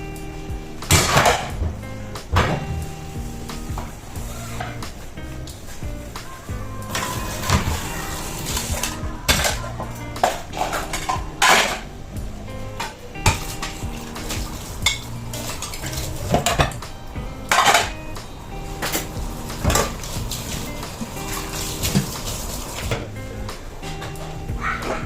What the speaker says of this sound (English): See, we have so many dishes here to wash,